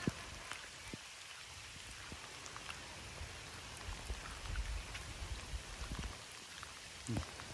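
Heavy rain pours down steadily, with scattered close drops and splashes spiking through a dense, even hiss, and no one speaks.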